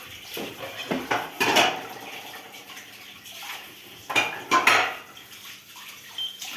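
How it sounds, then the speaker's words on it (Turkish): Dishes being washed by hand: clinks of plates and cutlery and bursts of splashing water, close by, in irregular clusters. "Ben bulaşıkları yıkıyorum"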